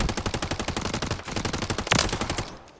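A low-recoil gun fires in the Warzone video game, a loud, close burst of rapid automatic shots in an even stream that tails off near the end.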